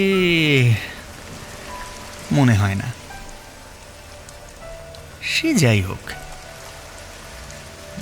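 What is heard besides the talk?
heavy rain at night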